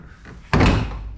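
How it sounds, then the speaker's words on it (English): A Nissan Micra K12 door panel is pulled free from the car door with one sudden loud plastic thunk and rattle after a quiet moment of handling. "Now we're ready to take the door panel off"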